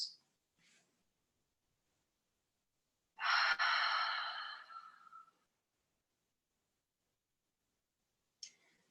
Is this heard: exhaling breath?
yes